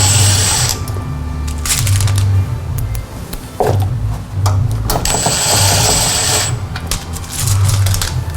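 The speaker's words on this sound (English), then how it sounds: "Now let's secure all the blades with the 10mm" A small power tool tightens 10mm bolts on the blades of a 2010 Prius Gen3 battery pack during a NiMH to lithium upgrade, with repeated whirring bursts of a second or so separated by brief pauses.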